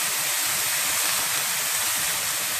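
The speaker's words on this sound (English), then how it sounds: "I'm going to put a little bit of liquid to help steam it just a little bit." Broccoli steams in a very hot pan just after liquid is poured in, giving a steady, even hiss that stays loud and constant throughout, with no talking.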